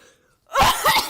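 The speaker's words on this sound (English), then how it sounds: "Oh, here's your cough." A single harsh, throaty cough bursts out after a brief quiet moment, loud and close, with a rough rasping tail.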